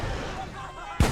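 A single cannon shot from ships in Sagas of Lumin, a sudden loud boom arriving at the very end after a stretch of low game ambience and murmuring voice.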